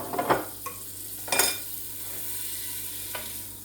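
Butter melting gently in a pan for onion soup gives a soft, steady sizzle, with a few close clinks of a utensil against the pan near the start.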